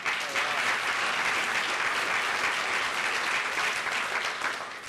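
Sustained applause from an audience at an annual meeting, honoring elected state representatives and senators; dense, steady clapping fills the room for the whole stretch before thinning slightly at the end.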